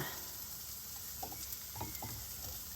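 Onions sizzle in a pan as they are deglazed with Armagnac, a low, steady hiss with a few soft stirring scrapes and small pops, no voices.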